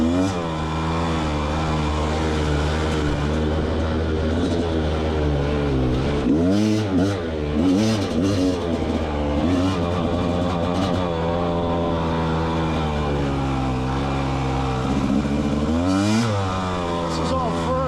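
A Rieju MR300 Pro dirt bike engine revs and pulls through first and second gear on a trail with hairpins, loud and continuous with rising and falling pitch as the rider works the throttle.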